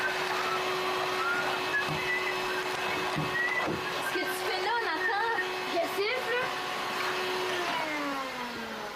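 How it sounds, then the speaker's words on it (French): A vacuum cleaner runs indoors with a steady tonal hum through the whole stretch, while people talk over it with rising and falling voices. "Mais pourquoi tu passes l'aspirateur, là?"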